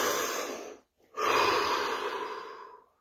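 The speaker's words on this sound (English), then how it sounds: "Another deep breath." Two long, deep breaths taken close to the microphone, a drawn-in inhale then a full exhale separated by a brief pause, clear and unaccompanied by talk.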